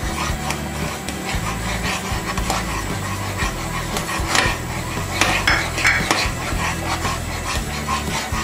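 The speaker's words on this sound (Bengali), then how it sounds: "দুধটাকে ভালো করে মিশিয়ে নিতে হবে।" Milk powder stirred into boiling sugar water in a pot for mutanjan jorda, a sweet rice dessert: repeated close scraping and clinking of a spoon against the pan over a bubbling background.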